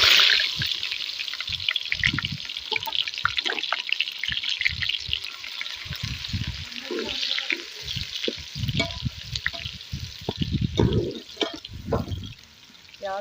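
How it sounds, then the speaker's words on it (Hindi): Chopped onions, about a quarter kilo, frying in two cups of hot oil for Hyderabadi chicken dum biryani, a steady close sizzle with bursts of crackle and intermittent stirring and scraping throughout. "अब हम इसमें डालेंगे 1 पाव प्याज कटा हुआ।"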